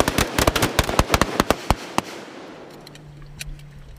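Rifles firing in French Foreign Legion rainforest training, a rapid ragged volley of sharp loud cracks for about two seconds, then sparse distant shots over a low engine hum.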